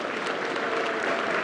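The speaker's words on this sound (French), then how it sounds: "applaudissez le plus fortement possible, monsieur et madame Rinaldi" Brief burst of steady audience applause at a Russian New Year party in Provence, fairly soft and even, lasting under two seconds.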